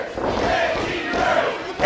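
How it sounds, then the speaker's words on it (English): A wrestling crowd chanting "Fancy nerds" during a match, a continuous roar of many voices in rhythmic unison filling the arena, moderately loud and steady. "you can hear this crowd chanting, "Fancy nerds,""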